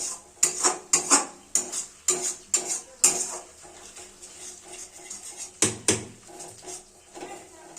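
Spice masala being stirred and fried in a pan for Chui Jhal chicken, a string of loud, sharp metal scrapes and clanks from a spoon striking the pan, coming in irregular bursts over a faint sizzle.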